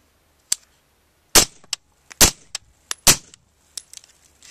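Suppressed rifle fire with 62 grain rounds at an outdoor range, several sharp, loud cracks at irregular intervals with short decays, plus a few fainter metallic clinks between shots.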